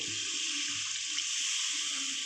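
Water poured into spice paste frying in oil for a Bengali oil-rich koi fish dish, a continuous bright rushing pour at close range with no voices.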